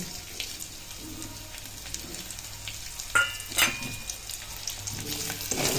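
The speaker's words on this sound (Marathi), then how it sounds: "आता ही लसणाची फोडणी द्यायची" Steady sizzling and crackling of garlic frying in hot oil, with a few brief clinks and splashes breaking through the hiss.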